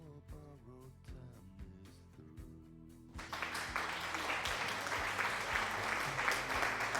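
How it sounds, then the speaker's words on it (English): Applause breaks out after a stretch of plucked, melodic music, swelling into sustained, fairly dense clapping from a crowd that continues steadily to the end, moderately quiet overall. "Oh, I get an applause."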